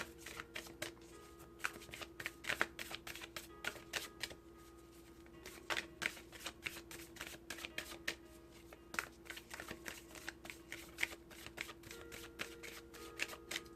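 Tarot cards shuffled by hand for a reading, a long series of soft riffling and slapping bursts in irregular rhythm, close but quiet, with no speech.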